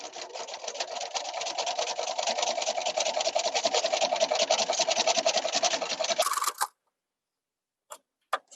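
A sewing machine chain-pieces half-square triangle quilt blocks at a quarter-inch seam, its fast even needle rattle running steadily and close for about six seconds before stopping abruptly, followed by silence and a couple of brief clicks.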